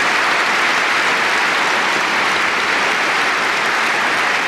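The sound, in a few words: audience applause after badminton match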